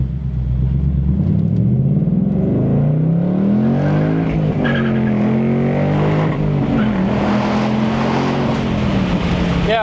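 A Ford Mustang Dark Horse's Coyote V8 roars loud and close as it accelerates hard, revs climbing and dropping through gear changes in a steady, unbroken drone.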